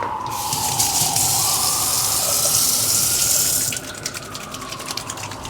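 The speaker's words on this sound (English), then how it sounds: "Let me wash my hands real quick." A tap runs in a steady, close rush of water for a few seconds, then shuts off, leaving soft splashing and dripping as hands are rinsed.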